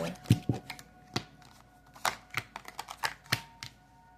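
Tarot cards being shuffled and drawn for a reading, a series of sharp slapping and riffling snaps, some close and loud, spread irregularly across the moment with quieter rustles between.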